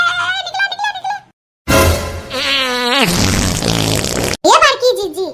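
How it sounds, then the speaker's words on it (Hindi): Loud, drawn-out breaking-wind noises in a comic household scene, sputtering in long bursts with short silent gaps, alongside voices talking and reacting. "ये बड़की जीजी काहे तू इतना गैस पे गैस छोड़ा था"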